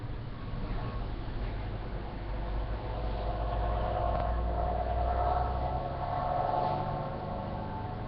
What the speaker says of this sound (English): And of course that, we all know, is a diesel. Sounded like a big truck of some kind, maybe a semi.